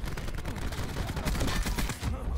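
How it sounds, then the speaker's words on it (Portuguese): Dense, rapid gunfire fills a Black Ops 4 match in an online multiplayer deathmatch mode. Overlapping automatic shots rattle loud and unbroken throughout. "E os caras lá, atirando no Sniper Nest"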